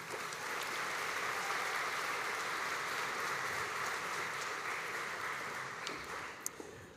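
A graduation ceremony audience gives a steady round of applause for vet, food, fibre and animal industries graduates. The dense, even clapping fills the hall from start to finish and tapers slightly near the end.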